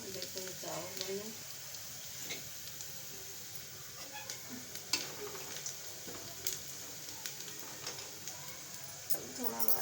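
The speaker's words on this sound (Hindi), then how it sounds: "अभी थोड़ा दोस्तों चावल दाल फ्राई कर रही हूँ" Rice and dal fry in a pan, a quiet, soft sizzle peppered with scattered small pops and ticks throughout, faint and close with no clear talking.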